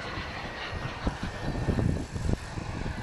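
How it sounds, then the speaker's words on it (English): A jet aircraft turns at the Florida Jets 2011 air show, a distant roaring rumble that swells in the middle and carries a few nearby bumps and crowd noise. "Next aircraft. making the turn on the left."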